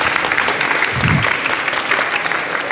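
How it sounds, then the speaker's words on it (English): An audience at an architecture congress pitch session in Copenhagen gives a brief burst of steady, close applause to welcome a student team onto the stage. Barely any voice is heard over the clapping. "So please give them a big applause and welcome them on the stage."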